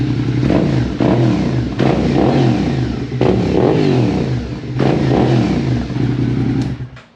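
Suzuki SV650 motorcycle from 2023 fitted with a full M4 exhaust, revved repeatedly up and down in loud close bursts over a steady idle, each blip climbing then falling away.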